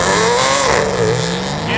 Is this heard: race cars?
yes